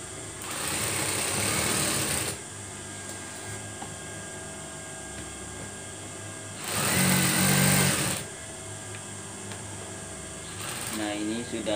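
A sewing machine stitches a classic-style curtain in two close, loud whirring bursts, one at the start and one a few seconds later, with quieter pauses between them.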